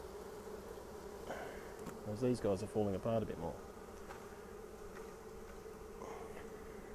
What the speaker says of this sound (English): that was quite a ball of bees just then